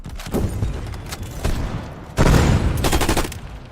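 Bursts of Galil rifle gunfire from Call of Duty Warzone, two loud sustained volleys of rapid shots separated by a brief gap, close and punchy with heavy booming low end and no talk over them.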